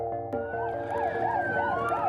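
A Vital Link ambulance siren wails close by, its rising and falling tone cycling rapidly and loudly over a low vehicle rumble, with no voices.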